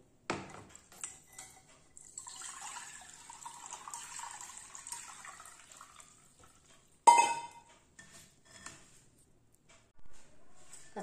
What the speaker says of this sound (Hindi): अब इसको छान लेते हैं।